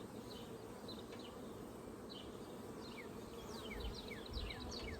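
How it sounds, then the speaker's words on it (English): Dense, steady buzzing of many honey bees close by at an opened hive, a continuous hum with occasional higher passing drones, no voices. "there is a ton of bees"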